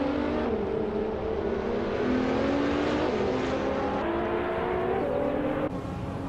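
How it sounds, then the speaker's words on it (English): A 2021 Chevrolet Camaro race car engine in a racing video game drones steadily and loud, with rising whining pitch through gear changes and a brief shift near the end, with no talk. "XSpaceX is driving a 2021 Chevrolet Camaro"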